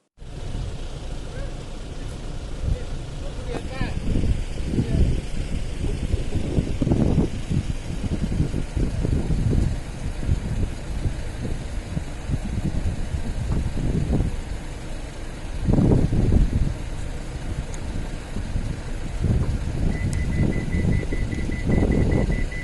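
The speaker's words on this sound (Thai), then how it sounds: "ทั้งเสียงลมทั้งเสียงรถเนาะค่ะ" Wind buffets the microphone at a countryside viewpoint in Sikhio, Nakhon Ratchasima, with passing cars rumbling in surges, a loud rough wash over the whole stretch.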